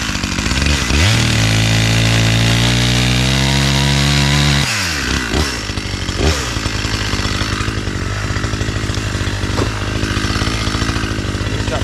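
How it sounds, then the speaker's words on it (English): A chainsaw cuts firewood outdoors, revving high with a rising and falling whine, then dropping to a rough idle and rapping over again, loud and close. "And we're going to cut a bit of firewood."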